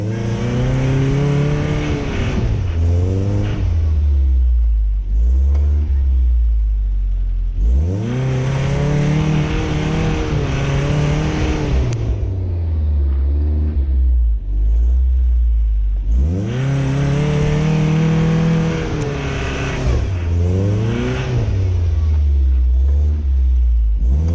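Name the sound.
1985 Toyota 4Runner engine revving, rocking in snow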